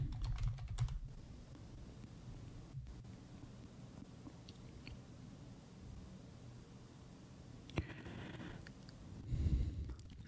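Keyboard typing on a computer, bursts of quick clicky keystrokes at the start and near the end with a quiet pause between, close and fairly soft.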